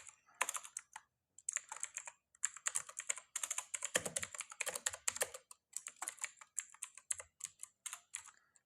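Someone types code on a computer keyboard, with quick bursts of crisp, close key clicks broken by short pauses and no talk.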